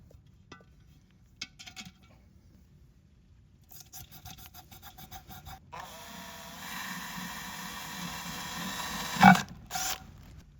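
A fresh 7/32 drill bit bores into a ceramic pot, giving faint intermittent grinding bursts that build into a steady harsh rasping whine, rising louder near the end with a sharp scraping peak.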